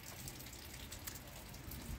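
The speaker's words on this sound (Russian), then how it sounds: "дождь все равно моросит" Light drizzle falls outdoors after a hot day turned cool, a soft, steady hiss of fine rain with faint scattered drops throughout.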